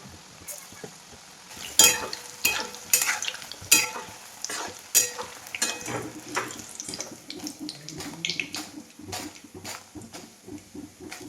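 Pakoras (bhaji) frying in oil in a kadhai, with irregular clanks and scrapes of a utensil over a soft sizzle, some bursts of running water, and no clear speech.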